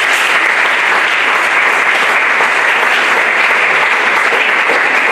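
A church congregation at a Christian youth gathering in Bonoua applauds, a dense, loud, sustained wash of clapping from many hands filling the room without a pause.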